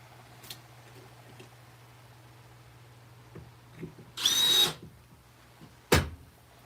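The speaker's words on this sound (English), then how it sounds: "Couple more screws and we'll get after it." A power drill runs in one steady burst of about a second while screws are driven in a woodshop before turning a cherry bowl, with a few small knocks and a sharp clack afterward.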